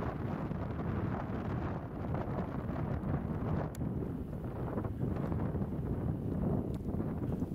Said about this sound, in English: Although the wind picked up a little more